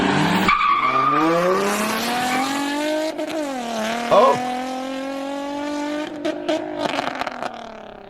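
A car with a failing transmission revs hard toward redline, its rising engine note climbing steadily and ending with tire squeal, as a voice briefly exclaims over the loud engine.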